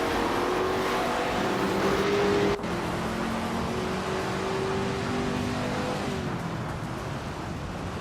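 A 1966 McLaren Elva Oldsmobile and other race cars leave the start line in a racing game at Phillip Island: a steady, loud engine drone with layered pitches that slowly shift as the cars pull away.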